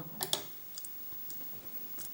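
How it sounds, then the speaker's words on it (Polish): On an Amiga 500, a couple of faint mouse clicks start the sampling, followed by a few softer scattered ticks in a quiet room. "Także klikam na sample."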